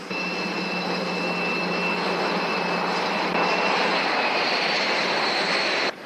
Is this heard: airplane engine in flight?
yes